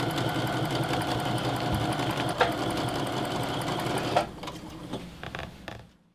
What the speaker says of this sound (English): let's get the sewing machine back up